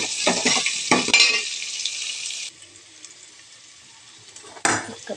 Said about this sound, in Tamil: கருவேப்பிலை போட்டு நல்லா வதக்கிக்கலாம்.